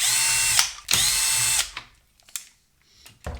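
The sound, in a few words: removing screws from Bang & Olufsen Beomaster 3500 jack input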